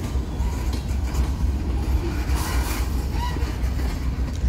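A train rolling steadily along railway track that has had new ballast, ties and rail laid, giving a continuous loud rumble with faint clatter throughout and no voices.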